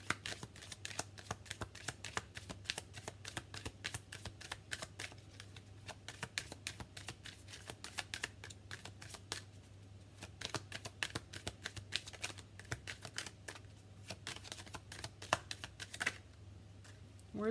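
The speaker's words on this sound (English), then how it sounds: "I'm gonna get one more card here." Tarot cards being shuffled and drawn, a steady soft riffling and flicking patter of cards, close and quiet, continuing without pause.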